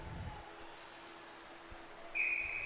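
At a ball hockey game, a referee's whistle gives one short shrill blast near the end, rising over faint arena noise.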